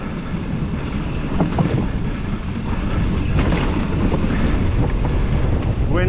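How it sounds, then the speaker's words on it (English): Steady wind roars and buffets the microphone on a mountain bike trail at Fort William, a continuous broadband rush that rises and falls slightly while the bike moves. "Wind's picking up."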